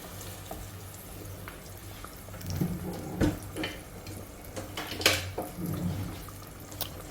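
Ghana jollof ingredients fry over low heat with a gentle, bubbling sizzle, punctuated by irregular scrapes and soft clinks of stirring, close and fairly quiet.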